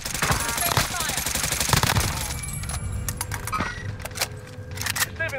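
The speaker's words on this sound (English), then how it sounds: "Receiving hostile fire." Rapid automatic gunfire bursts and scattered shots in Call of Duty: Modern Warfare crackle at mid distance, with a game voice talking over the action.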